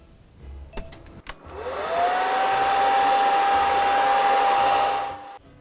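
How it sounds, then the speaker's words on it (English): A hair dryer blows over thickened gesso on a painting, clicking on after a couple of taps and rising into a steady, loud whooshing hum with a high whine, then switching off. "locking everything in place with the hairdryer"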